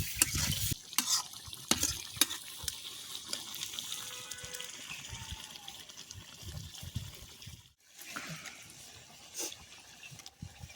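A spoon scrapes and stirs egg fry ghugni spiced with garam masala in a frying pan, with a soft sizzle and wet clinks near the mic and a short pause partway through.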